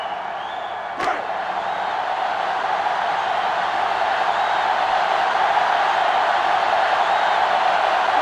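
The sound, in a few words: crowd cheering in the NCAA Football 2005 video game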